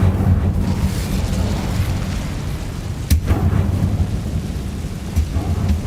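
An Incendio fire spell cast in the video game Hogwarts Legacy, heard as a loud, sustained rumbling roar of flame with a sharp crack near the middle and another burst toward the end, continuous and full throughout.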